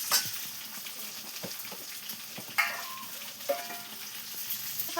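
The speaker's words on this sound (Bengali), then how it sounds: "আর মাছগুলো ভাজি" Fish fries in a pan over a clay stove with a soft, continuous sizzle, broken by a few light clinks and scrapes as the pieces are moved around.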